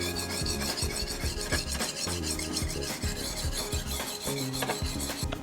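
Chef knife rasping back and forth on a diamond sharpening stone, a steady continuous scraping with repeated strokes, loud and close with no talking.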